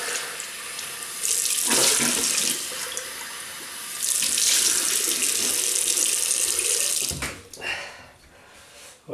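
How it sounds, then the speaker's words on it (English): Tap water runs steadily into a sink while soap is rinsed off, with loud rushing flow that breaks briefly with splashes and then trails off as the tap closes. "Right, we'll rinse off."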